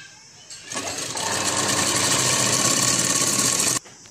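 A sewing machine stitches a designer sleeve in one steady, loud, continuous run of about three seconds, starting up briefly and then cutting off abruptly.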